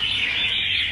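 A songbird at a Vietnamese bird singing competition gives a steady, loud, high-pitched call held for about a second, close to the recorder, with no talking.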